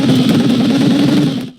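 A rally car engine in the racing game EA Sports WRC buzzes loud and steady as it sits against the rev limiter, with a rough pulsing drone, then cuts off sharply near the end.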